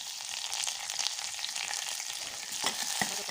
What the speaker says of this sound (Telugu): గీ వేడి అయిన తర్వాత చిన్నగా తరిగిన వెల్లుల్లి రెబ్బలు, కొద్దిగా కరివేపాకు